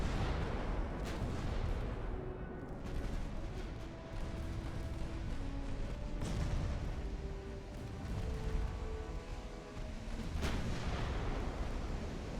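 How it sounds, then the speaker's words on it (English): A warship fires whatever guns she has left in Ultimate Admiral: Dreadnoughts, with sharp booming shots at irregular intervals over a continuous low battle rumble and faint tonal whines. "She is just firing whatever gun she's got."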